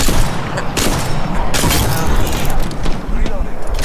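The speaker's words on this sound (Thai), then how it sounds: "เขายิงแค่หนึ่งนัดนะครับตายหมดเลย" Loud, rapid bursts of gunfire and booming impacts from the video game Apex Legends crowd together in quick succession, with voices mixed in.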